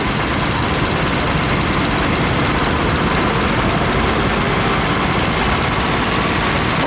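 A two-seat 1952 historic agricultural tractor engine in an arena parade at an autumn show, a loud continuous mechanical drone running steadily throughout with no pauses.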